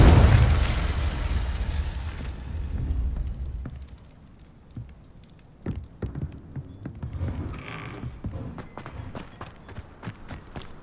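A Confringo fire spell from Hogwarts Legacy bursts with a loud, booming blast that rolls off over a couple of seconds, followed by quieter scattered pops and thuds.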